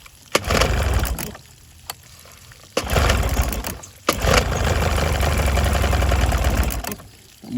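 A Johnson 15 outboard motor starts with a few abrupt bursts, cuts out, then catches and settles into a steady low idle that continues for several seconds.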